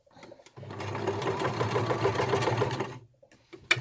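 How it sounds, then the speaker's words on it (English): Close by, a sewing machine runs a short burst of reverse stitches along the seam of a fabric glasses case, a rapid mechanical whir lasting about two and a half seconds between faint clicks. "I'm just going to do a few little reverse stitches there just to secure that edge"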